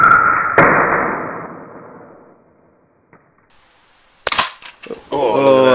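Gunshots aimed at cassette tapes ring out: one sharp report with a long fading echo, then a faint tick and a quick burst of close, loud cracks near the end.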